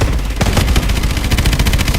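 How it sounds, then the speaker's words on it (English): Rapid bursts of gunfire in Call of Duty: Advanced Warfare crackle continuously, with dense overlapping shots and booming low-end impacts filling the whole stretch. "Lots of tracers coming up here. Lots of fire, gunfire."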